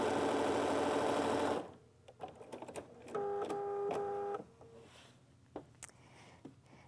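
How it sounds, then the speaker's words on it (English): A sewing machine stitches piping onto the side of a pillow for a quilt project, a loud steady mechanical whir for the first second and a half, then shorter runs of stitching broken by pauses, clicks and handling noises. "continue to sew down the next side of the pillow"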